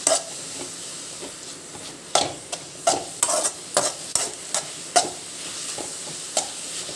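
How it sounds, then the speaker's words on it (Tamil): Beetroot and potato fry is stirred in a pan, with repeated sharp spoon scrapes and clinks against the metal at an irregular pace over a soft background sizzle. "அப்படியே தொடர்ந்து கைவிடாமல் கிண்டணும்"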